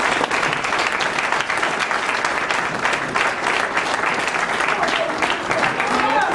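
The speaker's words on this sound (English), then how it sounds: "Give someone a round of applause." Sustained applause from an audience gathered for a religious youth address, loud and steady throughout without letup.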